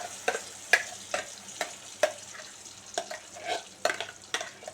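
Boiled chana dal paste for halwa stirred in a pan as it fries, a series of evenly spaced spoon scrapes and taps over a faint sizzle, close and quiet with nobody speaking.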